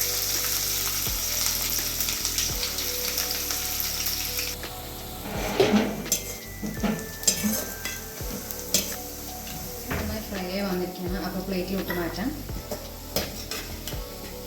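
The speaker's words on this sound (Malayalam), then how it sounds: "രണ്ടുള്ളിയാണ് എടുത്തിരിക്കുന്നത് ഇത് ചെറുതായിട്ട് ഇട്ട് കൊടുത്തതിന് ശേഷം ഫ്രൈ ചെയ്തെടുക്കാം" Two chopped onions fry in hot oil in a pan for Palakkad style beef biryani, sizzling steadily close up with repeated stirring and scraping of a spatula against the metal pan; no talking.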